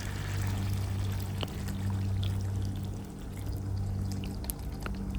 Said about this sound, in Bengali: এই পানিটা শুকিয়ে গেলে আমি আবারও অ্যাড করব আরও এক কাপ গরম পানি